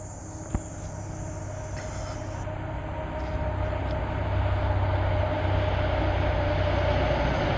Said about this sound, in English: Hear the train coming.